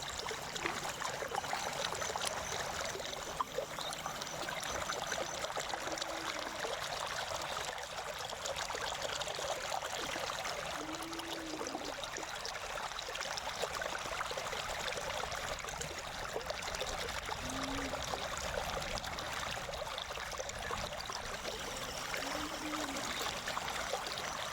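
A clear river in a village in Jinjim flows steadily over rocks, a continuous close trickling and rushing of water with no breaks and nobody speaking.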